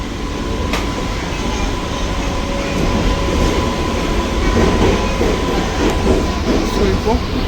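A new AC EMU suburban electric train runs steadily after leaving Fort station, giving a loud, continuous rumble with faint rhythmic clicks of the wheels over the rails. A voice is heard faintly under the train noise.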